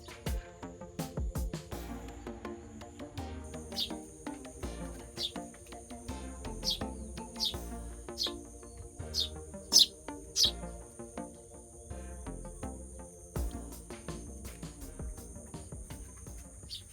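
Sparrow chirping and calling outdoors, faint repeated short chirps scattered over a soft background of insect trilling.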